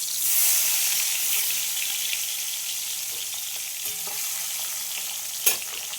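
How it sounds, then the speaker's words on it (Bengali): Tengra fish frying in hot oil produce a loud, steady hissing sizzle throughout, with a brief clatter near the end. "ভেজে নেব মাছগুলোকে"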